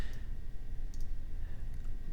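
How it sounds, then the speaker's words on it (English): Light mouse clicks tick sparsely over a low, steady background hum, with a few crisp taps scattered across the moment. "you can click on the screen using the right side of the mouse and you can rotate around"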